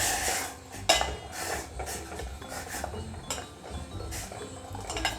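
A spoon stirs and scrapes through dal in a metal cooking pot with a few drops of mustard oil, giving irregular clinks and knocks against the sides, close and distinct with no talking.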